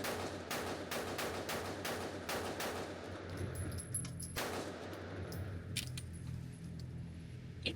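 Rapid string of Glock pistol shots, each a sharp broadband crack, fired in quick succession during the first few seconds and then more sparsely, with a hollow reverberant outdoor tail between bursts.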